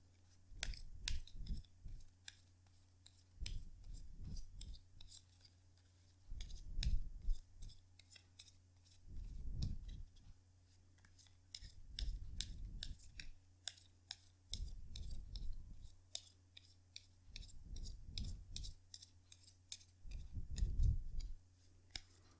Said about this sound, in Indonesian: Jadi sebentar ya kartunya dikocok dulu sebelum kita mulai